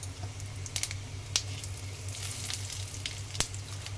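Cumin seeds frying in leftover oil in a pan: a steady, close sizzle with a few sharp pops and crackles breaking through.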